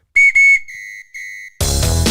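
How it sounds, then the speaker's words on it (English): A referee-style whistle blown to open a live show, two sharp shrill blasts followed by two longer, softer toots, then a burst of loud music bursts in. "Let's blow the whistle."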